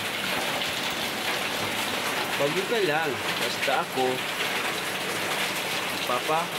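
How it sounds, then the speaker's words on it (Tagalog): Heavy typhoon rain pours in a constant hiss, and a few people talk briefly over the downpour. "Yan, ulan na malakas."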